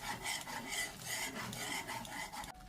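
Steady scraping and rasping of a utensil stirring in a pan, continuous and close, with faint metallic clinks throughout and no talking.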